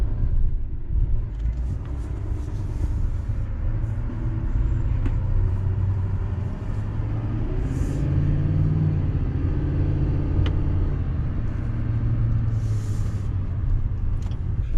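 A Chevrolet Silverado 3500HD Duramax dually diesel pickup with a 10-speed automatic accelerating at low speed around a parking lot, a steady low engine rumble from inside the cab with gentle rises and dips as it runs through the first few gears.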